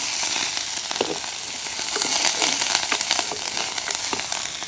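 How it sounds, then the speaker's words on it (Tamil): Curry leaves and pandan leaf hit hot oil with softened onions and green chillies, a dense crackling sizzle, close and even, with light stirring scrapes throughout. "இப்போ நாங்கள் கருவேப்பமில ரம்பையை போட்டுக்கொள்வோம் அப்படியே பிரட்டி விடுவோம்"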